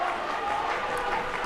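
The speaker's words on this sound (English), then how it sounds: "We have the fans clapping on" Wrestling fans in Ontario keep up a dense, continuous wash of clapping and crowd noise at a SPRY Wrestling match, loud and steady throughout with no clear pauses.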